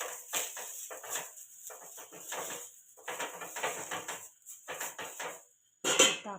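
An onion half stuck on a knife, dipped in oil and rubbed over a dosa pan, giving a series of quiet scraping and wiping strokes in uneven bursts, followed by a sharper clink near the end.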